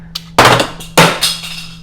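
A Stoeger STR9 pistol's magazine released and dropping free, heard as a small click followed by two sharp, close metallic clattering impacts within about a second.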